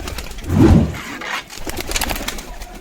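Domestic pigeons in a loft coo close by, one deep, loud throaty coo swelling and fading, followed by softer cooing and faint rustling.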